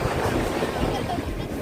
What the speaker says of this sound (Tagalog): Nasa dagat na rin tayo sa wakas.